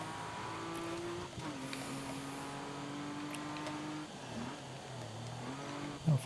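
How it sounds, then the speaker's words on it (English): A damaged race car engine in the Grid Autosport racing game drones steadily with shifting pitch and a rough, strained tone as the car runs through the track, with a brief sharp noise at the end. "that's what you heard, that my engine damage started to come to the surface"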